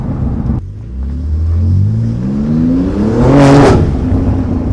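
A BMW G80 M3 fitted with a TFL Italy catback exhaust revs up, its loud engine note rising steadily in pitch to a sharp peak before settling back, close by with no talking.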